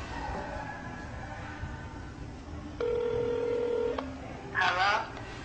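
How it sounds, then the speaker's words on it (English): A phone on speakerphone dials a number, with a steady tone followed by a short burst of dialing beeps, heard over low background noise and chatter. "Call it. Put it on speaker."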